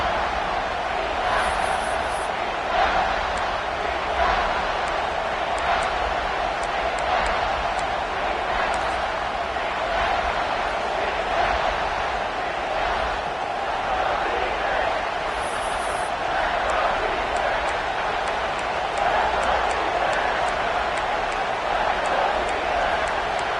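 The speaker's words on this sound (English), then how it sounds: "The crowd getting behind this defense" Stadium crowd noise in College Football 26 during an Ohio State vs Nebraska game, a steady roaring wash of cheering that holds at an even level throughout, with faint announcer-like voices occasionally surfacing beneath it.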